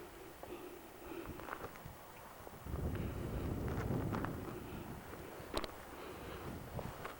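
Cold wind buffets a hilltop among volcanic cinder cones, rumbling and gusting across the microphone, strongest in the middle, with faint footsteps on loose gravel.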